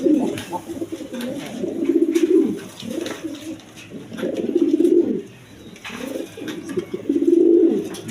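Pigeons coo repeatedly at a pigeon farm, their low throaty bursts rising and falling in several rounds over about eight seconds, fairly close, with faint background voices.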